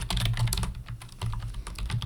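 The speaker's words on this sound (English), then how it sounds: "I'm not good at typing numbers on here" Rapid typing on a computer keyboard, with dense clusters of close, crisp key clicks and brief pauses, over a steady low hum.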